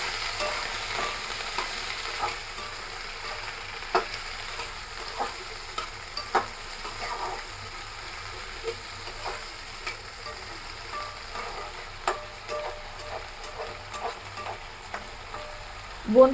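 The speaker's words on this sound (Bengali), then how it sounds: "এবার ভালো করে লবণের সাথে মিশিয়ে দিতে হবে সবজিগুলো।" Salted vegetables for bean bharta are mixed in a pan, giving a soft, steady sizzle with scattered light taps and scrapes from the stirring spoon, close by and with no one speaking.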